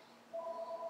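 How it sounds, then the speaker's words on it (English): A telephone sounds indoors, a steady electronic double tone starting partway through and holding, fairly faint. "That's the phone."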